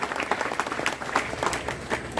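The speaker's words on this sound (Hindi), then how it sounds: "एक ताली आप भाई राकेश टिकैत, जो काले कानूनों के खिलाफ 1 साल तक संघर्षरत रहे, एक ताली लगाएं" An audience claps at a large constitution-awareness conference under a decorated pandal, a dense, uneven round of applause from many hands with some crowd murmur mixed in.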